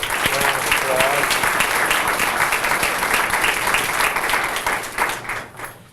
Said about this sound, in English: Let's give our United States Attorney a round of applause